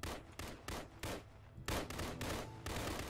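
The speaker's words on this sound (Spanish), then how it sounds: "pero ¿qué están disparando, tío?" Video game gunfire, a series of loud, close, sharp shots in irregular bursts, some rapid and overlapping, with no voices over them.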